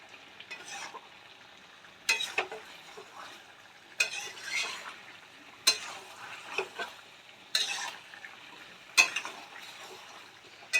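Meat with ginger and garlic being stirred over high heat in a pan for Dhaka-style kosha mangsho: a soft, continuous sizzle, with a sharp scrape or clack of the spoon against the pan every couple of seconds and no voices.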